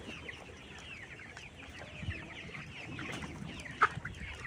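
Hens on a poultry farm during beak-trimming recovery cluck softly and repeatedly in the background, a flock murmuring at moderate distance with one sharper call near the end, no one talking.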